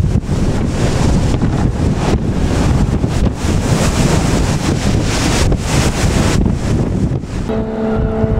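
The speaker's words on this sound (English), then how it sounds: "the wind is howling" Strong wind roars over rough, very cold seas with two- to three-metre waves around a cruise ship off Japan, a loud continuous buffeting rush with crashing surf, steady throughout and with no talk.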